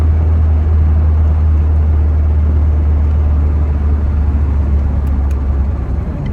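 A 1939 Citroen Traction Avant Light 12 driving along, its low engine rumble and road noise loud, steady and close from start to finish, with no talk.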